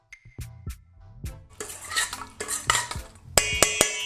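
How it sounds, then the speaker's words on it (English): Charred peppers are mixed with honey and dried oregano in a bowl, with repeated close scraping and clinking of a utensil against the bowl that turn brighter and louder toward the end. "Give that a mix."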